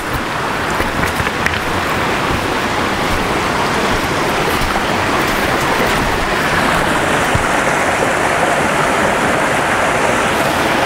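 Water rushing along a stream at Hawn State Park, a loud, dense, unbroken hiss and burble close by that carries on without pause.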